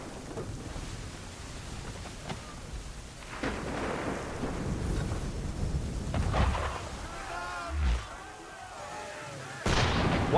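Heavy ship cannons boom in Assassin's Creed 3, deep rumbling blasts rolling over a noisy background with brief muffled voices in between.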